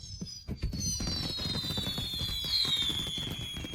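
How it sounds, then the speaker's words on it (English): Fireworks burst at a New Year celebration, with a dense run of crackling pops and booms under a long descending whistle, loud and continuous with no talking. "Fireworks."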